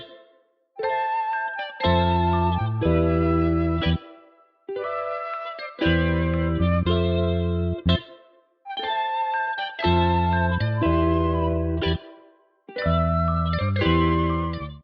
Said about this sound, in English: paired with this glockenspiel from Mallet Flux.